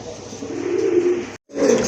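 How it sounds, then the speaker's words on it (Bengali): A pair of Giribaz pigeons gives low, throaty coos in a steady run, close and fairly loud, with a brief pause before the cooing resumes. "আর এক জোড়া কবুতর দেখতে পাচ্ছেন গিরিবাজ কবুতর"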